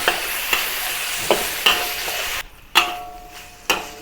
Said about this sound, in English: Next, add the chili paste.